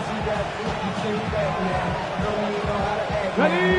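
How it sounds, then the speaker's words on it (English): A stadium crowd at an NFL game between the Buccaneers and Eagles roars steadily in the background, a broad continuous din beneath an announcer's voice, with a brief swell near the end. "This crowd doing everything they can before 3rd and goal."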